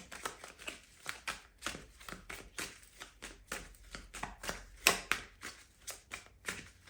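Tarot cards are shuffled by hand in quick, rhythmic riffling bursts, close and crisp, repeating steadily with no talking.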